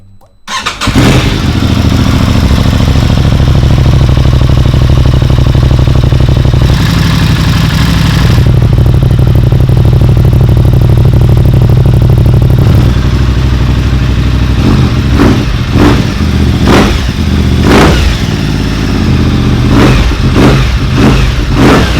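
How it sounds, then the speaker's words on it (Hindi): An Aprilia RS 660 motorcycle with an Akrapovic full-system exhaust starts and settles into a loud, close idle, then gives a series of sharp revs in the second half. "आखिर में जी करते हैं इसका एक अदद साउंड टेस्ट और आपको एग्जॉस्ट चेक कराते हैं।"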